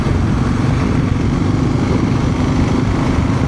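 Motorcycle riding on a gravel road in West Virginia, a loud continuous engine drone with rough rumbling underneath, close to the rider and unbroken, no talking.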